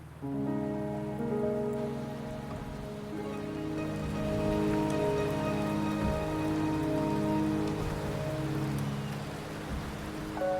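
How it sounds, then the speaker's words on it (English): Rain falls steadily in the video game Wuthering Waves, a constant patter of drops on surfaces, heard close and even alongside sustained tonal music. "The rain is subsiding, and the sky will soon clear."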